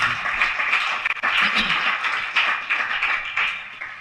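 A church congregation claps together in acclaim of Jesus, a dense continuous patter of many hands that holds steady, fairly loud and close, for the whole stretch.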